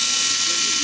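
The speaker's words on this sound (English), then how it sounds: "That motor's loud." Loud small motor running, a harsh high-pitched whirring buzz with rapid ratchety texture, steady and close for under a second.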